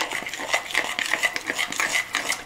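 Sharp cheddar cheese being stirred into cornbread batter for onion cheddar cornbread sticks, a spoon scraping and clinking against a bowl in quick, rhythmic strokes, close and moderately loud.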